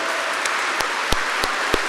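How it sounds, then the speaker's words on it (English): Gala audience applauding, a brief burst of dense, steady clapping from a large crowd filling the room, with a few sharper individual claps standing out. "I need everyone to stand up and cheer for my mother and all the other mothers out there"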